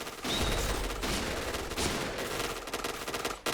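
Rapid bursts of gunfire from the first-person shooter game Point Blank, loud and dense, with overlapping shots forming a continuous barrage across the clip and no speech.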